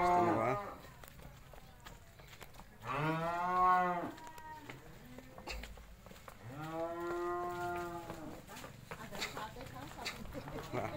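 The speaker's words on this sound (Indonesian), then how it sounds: "Sapinya proses keluar dari kandang." Cattle leaving a pen, with two long, loud drawn-out moos close by, separated by shuffling and knocking sounds, and someone talking quietly in between.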